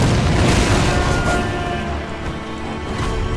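Heavy cannon fire in Sekiro booms and rumbles loudly in the first half, then a dense low roar trails off and holds steady under later clatter, with no talk.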